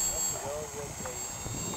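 A model An-2 biplane flies overhead with a steady, droning engine hum at a moderate distance, carrying through wind noise for a brief stretch.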